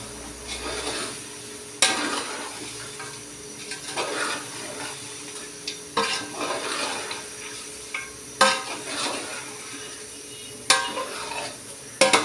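Grated coconut and white pepper fry in a pan with steady scraping and stirring, sharp clinks of a utensil against metal recurring throughout, close and moderately loud.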